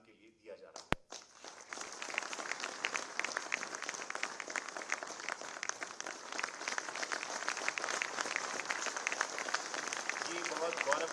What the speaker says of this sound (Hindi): आपकी तालियों की गड़गड़ाहट इसी तरह चलती रहनी चाहिए